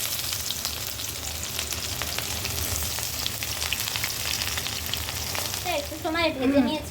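Chopped onion fries in a pan with whole spices such as cinnamon, making an even, close sizzle throughout, joined near the end by louder scraping as the mixture is stirred.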